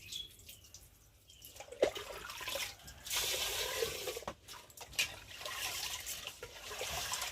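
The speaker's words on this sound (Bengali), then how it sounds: "তো চালটাকে ভালো করে এখন ধুয়ে নিই" Rice being rinsed by hand in water at an outdoor hand-pump washing spot, with irregular splashing, trickling and swishing that swells and fades over several seconds, close up and fairly loud, no talking.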